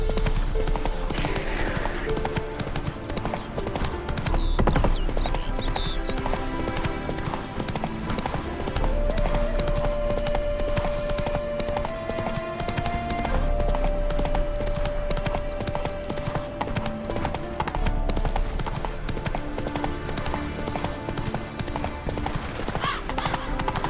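Horse hooves clip-clop steadily during a ride in The Witcher 3: Hearts of Stone, in a continuous rhythmic gait under game music and ambience.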